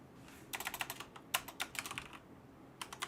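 Fingers type on a computer keyboard while a parts-management app is being coded, producing quick bursts of soft, close key clicks with short pauses between runs.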